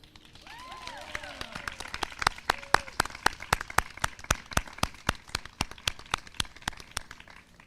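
Applause for the faculty at the FUS 2021 commencement ceremony: a steady, evenly spaced run of fairly loud claps, with a murmur of voices near the start.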